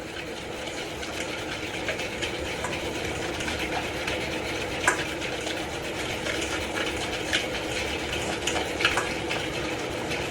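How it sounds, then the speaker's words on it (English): Eggless vanilla sponge cake batter made with mishti doi is being whisked and creamed, producing a steady, even whirring churn that continues throughout with a few faint clinks. "I need to whisk it really well, mix it as much as I could, cream it really well"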